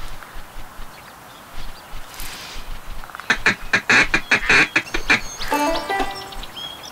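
Duck calls and answering quacks in a Duck Dynasty hunting video game: a quiet start with faint bits, then a loud burst of rapid, closely spaced quacks and a final cluster before it tails off.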